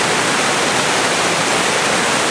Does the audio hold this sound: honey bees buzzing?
no